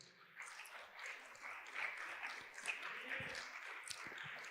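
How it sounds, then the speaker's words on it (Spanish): Faint congregation applause in a church, steady continuous clapping throughout, heard from a distance at low level. "Da un aplauso al Señor."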